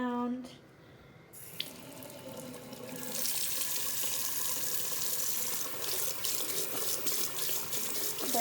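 Tap water pours steadily from a sink faucet onto a small toy water wheel, a loud continuous splashing rush that swells after a quieter start and keeps going to the end.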